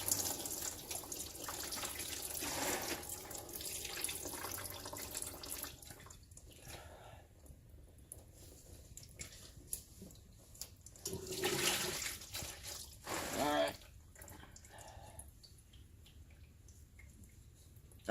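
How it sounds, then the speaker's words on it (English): Coolant drains from a Yamaha Banshee 350 radiator into a drain bucket in a garage, a steady trickle and splash that swells and fades over about eighteen seconds, with no one talking. "Let all the coolant roll into it, or it'll make a mess all over your garage."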